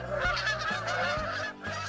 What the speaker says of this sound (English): a gaggle of geese flew over and honked loudly